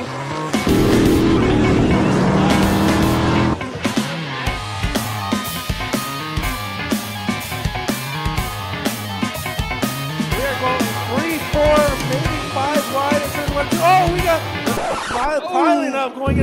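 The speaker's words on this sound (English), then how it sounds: "The SH Automotive Pure Stock's gonna roll onto the Votto Speedway Park for 20 laps of some intense racing action." Pure Stock race cars roar around Volto Speedway Park, their engines a loud, continuous drone that drops abruptly after a few seconds into a dense, layered mix of engines at varying pitches, with a voice talking over it.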